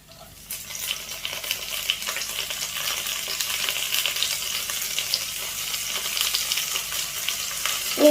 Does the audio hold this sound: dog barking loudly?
no